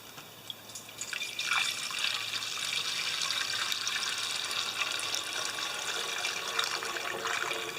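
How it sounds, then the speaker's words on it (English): Old but clean fuel poured into a 4HP horizontal Briggs engine, a steady close trickling stream of liquid running for several seconds with drips, no talk. "I'm going to pour some clean but old fuel in here."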